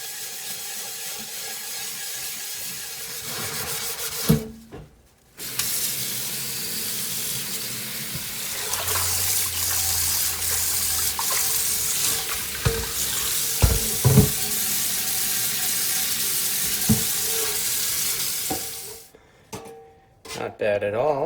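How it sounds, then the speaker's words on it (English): A Birmingham Stove & Range cast iron skillet scrubbed with Barkeeper's Friend under a running faucet, a loud continuous rush of water with gritty scraping strokes and a few clunks, cut off twice by short pauses. "we go at these pieces using elbow grease and my favorite cast iron cleaning solution, Barkeeper's Friend."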